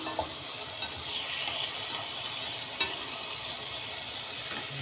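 Meat dropped into a hot pan for pinakbet sizzles and crackles steadily and loudly, a dense continuous fry broken by a few small pops, with no voices.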